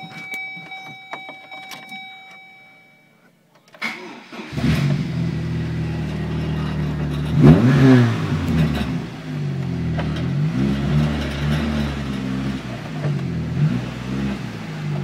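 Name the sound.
car engine starting and revving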